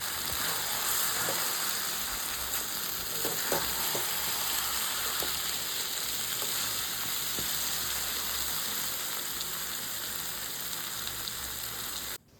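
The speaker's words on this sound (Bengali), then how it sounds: "দেখো মাটন রান্না করছি" Mutton curry with potatoes frying in a pan, a steady close sizzle and crackle with occasional stirring scrapes, continuous and fairly loud throughout, with no voices.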